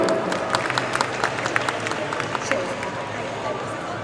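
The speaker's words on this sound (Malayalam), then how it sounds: "ഒരു കയ്യടിക്ക് ആവോടെ." An audience at a music video launch claps in a dense, even patter of many hands, moderately loud and continuous throughout, with faint crowd murmur underneath.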